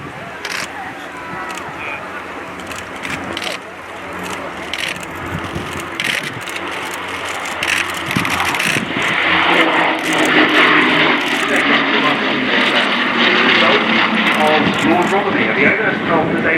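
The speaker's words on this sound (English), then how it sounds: "the Bristol Blenheim 1F" A Bristol Blenheim 1F piston-engined aircraft flies past at an airshow flypast. The engine drone swells and sustains as the plane approaches, under a commentator's voice and crowd ambience.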